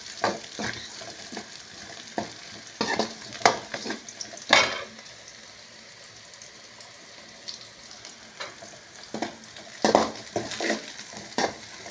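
Onions and dried red chillies sautéing in a pan for a chicken Pallipalayam dish, a steady close sizzle broken by repeated loud scraping and clattering stirs, with quieter stretches of plain frying between them.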